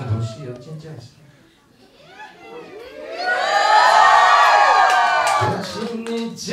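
At a marriage proposal, a group of people breaks into high-pitched screaming and cheering that swells loudly after some brief voices, then holds for several seconds before easing off.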